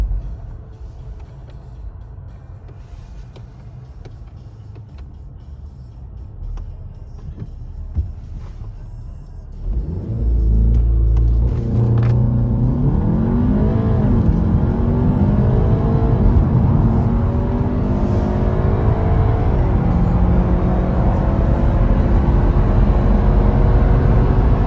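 A Mk7 Golf R with a tuned DSG (Integrated Engineering TCU) and a launch set at 3400 rpm idles quietly in the cabin, then launches hard into loud, climbing revs with several quick, crisp upshifts.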